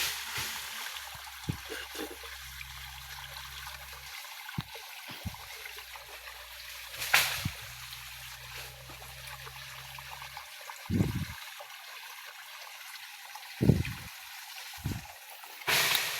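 Water flowing in a quiet, remote stream among rocks, a soft continuous trickle and gurgle with occasional louder splashes and knocks breaking through, no voices.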